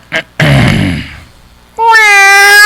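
A man imitates a cat's meow live in a studio, a short breathy sound followed by a long drawn-out nasal vocal mew, then a sustained strong tonal meow-like cry at the end.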